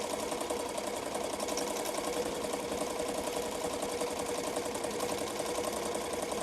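An embroidery machine stitches out a rhinestone shirt design with a steady, fast mechanical chatter, its needle rhythm even and close-up throughout, with no voices.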